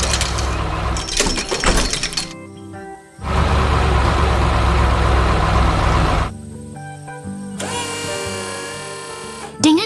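In an animated 3D construction scene, a construction machine assembles a metal frame with loud, close bursts of drill-like whirring, clanking and crunching, broken by short pauses and a final ringing mechanical whine.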